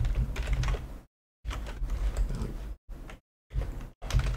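Someone types on a computer keyboard in bursts of clicky keystrokes, with short pauses between the runs, close and fairly quiet.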